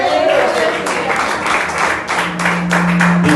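A congregation claps in a Portuguese-language church service, with sharp irregular hand claps and voices filling the hall, and a held musical tone toward the end.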